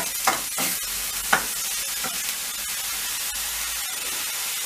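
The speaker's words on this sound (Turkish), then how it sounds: "Soğan ve biberlerimizi kavurduk." Chopped onions and peppers sauté in hot oil in a pan, a steady close sizzle broken by a few louder scraping stirs near the start.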